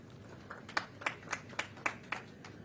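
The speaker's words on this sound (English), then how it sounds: "I can see the management is clapping" Audience hands clapping at a university graduation ceremony, about eight or nine distinct claps in a slow, steady rhythm, fairly faint and roomy, with no talking.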